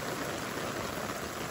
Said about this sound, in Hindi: हर तरफ बादल है और बहुत तेज बारिश हो रही है।